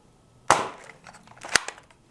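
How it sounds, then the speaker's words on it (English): A Nerf Elite dart blaster fires foam darts during a speed test, giving two sharp, close pops about a second apart, the first stronger, each with a short rattling tail. "Starting off with Nerf Elite. I will be shooting 6 each."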